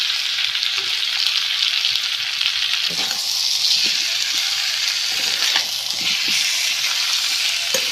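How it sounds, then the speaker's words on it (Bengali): Potatoes sautéing with chilli powder and salt for aloo dum make a steady, loud sizzle that runs unbroken for the whole stretch, with occasional soft stirring scrapes and no voices. "দেখুন বন্ধুরা আলুর দমটা কষা হয়ে গেছে এবার আমি জল ঢেলে দেবো"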